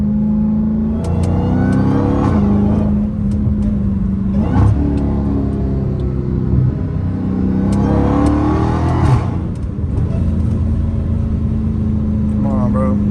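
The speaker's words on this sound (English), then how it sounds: "I love the supercharger sound" A supercharged Dodge Hellcat Redeye engine revs repeatedly in loud, rising and falling surges with supercharger whine over a steady idle, heard from inside the car while someone talks over it.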